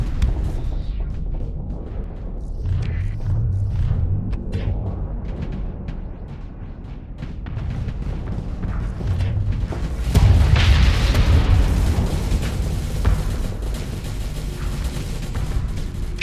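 Ships blow apart from friendly fire in Starsector, a series of deep booming explosions rolling over one another, loudest in a big burst partway through.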